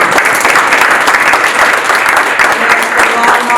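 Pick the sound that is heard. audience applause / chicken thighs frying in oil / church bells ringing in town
audience applause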